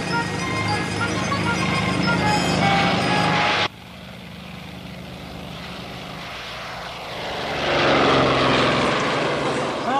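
A propeller airplane flies past, a loud droning engine with a steady buzz. It drops off abruptly, then swells again as a distant rumble returns toward the end.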